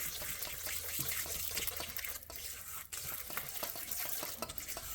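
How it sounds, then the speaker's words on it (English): Mustard and seasoning being mixed together for chicken wings, a continuous wet, close stirring and swishing texture with small clicks, steady from start to finish and with no talking. "we're going to mix it up to make sure that my mustard and seasoning is well mixed together"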